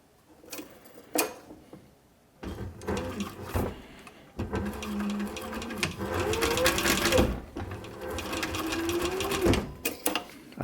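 A sewing machine stitching a leather mitten, running in short starts and then longer steady bursts of rapid mechanical chatter, close and moderately loud, with pauses of near silence between runs.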